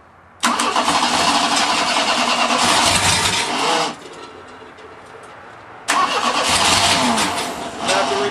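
A monster trike engine with a carburetor that won't idle cranks and catches, running loudly for a few seconds before dying, then restarts and runs again before dropping off.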